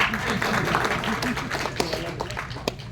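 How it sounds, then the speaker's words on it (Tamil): Audience applause at a Tamil film event for the movie Thozhar Cheguevara, a burst of many hands clapping in a hall, crisp individual claps standing out over a loud, uneven mass that fades slightly toward the end. "தயவு செஞ்சு நீங்களே ஒரு தடவை கைத்தட்டிடுங்க"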